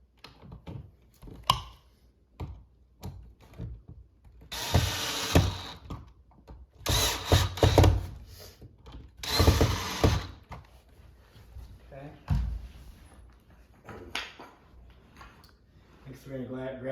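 A power drill drives screws into the post of a farmhouse corner shoe bench in three loud, roughly one-second whirring bursts, with a person talking and small handling taps in the gaps between them.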